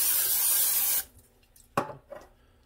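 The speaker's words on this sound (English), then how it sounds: "we're going to actually spray it" One sustained hiss of an oil spray nozzle onto a Ninja air fryer basket, then it stops, followed by a couple of soft clicks and rattles nearby.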